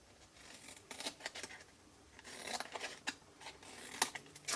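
Scissors snip through vellum and patterned paper for a Floral Romance favour box craft project, a close, quiet run of crisp cutting strokes in irregular bursts with no voices.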